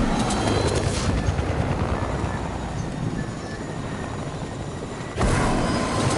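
A video-game helicopter thrums steadily with loud rotor noise, easing slightly in the middle and then surging back near the end, with no speech over it.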